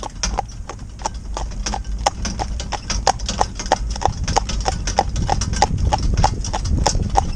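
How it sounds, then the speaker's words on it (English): A horse, an older cob, trotting under a rider, its hooves clip-clopping in a quick, even two-beat rhythm that carries on steadily, fairly close, with a low rumble beneath and no voices. "So now I'm going to ask her to give us a little trot"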